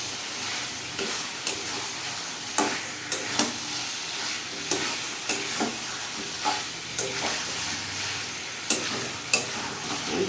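Fried chicken pieces are stirred into spices in a kadai, giving a continuous oily sizzle broken by regular scraping strokes of a spatula against the pan, with no voices.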